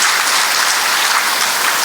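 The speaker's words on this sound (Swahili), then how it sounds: "Wageni wetu basi hata mtupigie makofi" Audience applause at a formal event, a dense, steady, loud clapping that fills the whole moment without talk.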